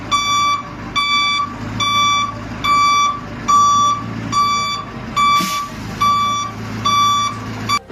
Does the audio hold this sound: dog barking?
no